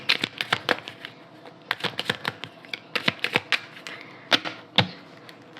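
Tarot cards being cut and shuffled, giving a run of crisp, dry card clicks and riffles in irregular bursts, close and fairly quiet with no talk over them.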